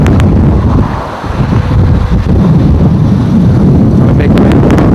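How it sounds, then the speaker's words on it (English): Strong wind buffets the microphone on a bridge, a loud continuous low roar and rumble with brief dips in force, filling the whole clip with no clear speech over it. "It's so windy."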